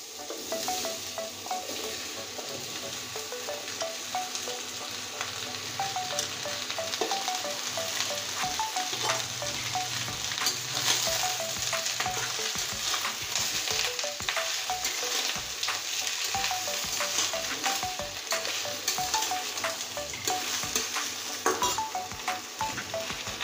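Bottle gourd sizzles and fries in hot mustard oil, giving a steady, close crackle with occasional stirring scrapes and clinks of the pan, and no voices.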